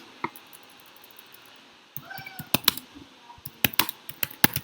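Keystrokes on a computer keyboard while a test file is typed, starting after a quiet stretch as a sparse run of sharp, close clicks that turns into quicker irregular bursts of taps.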